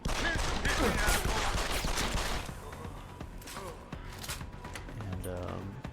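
Gunfire in the video game Deus Ex: a dense burst of shots fills the first couple of seconds, then sporadic sharper cracks follow over a game soundscape, with faint voices audible.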